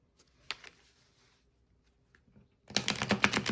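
A few soft flicks, then a rapid burst of fluttering clicks as a deck of playing cards is riffled and shuffled close by.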